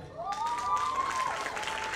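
Audience at a badminton awards ceremony applauds, a faint, distant patter of clapping from a crowd, with a whistling tone over it and some voices in the background.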